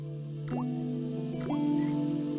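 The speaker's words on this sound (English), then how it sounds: "The slow drip of water." Slow water drips plink at a steady interval, two distinct drops about a second apart, each with a short pitch rise, over a sustained background hum in a hospital scene of the video game Broken Sword: The Shadow of the Templars.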